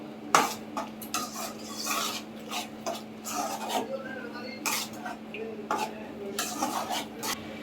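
Ground onion paste sautéing in a pan, with repeated scraping and stirring strokes over a low steady hum, close and moderately loud, no talking.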